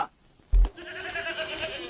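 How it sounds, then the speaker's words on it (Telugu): A sheep gives a short bleat, fairly near and clear, after a brief thump, then a wavering bleat-like cry trails on through the rest of the moment. "డాడీ గొర్రెలు వచ్చారు."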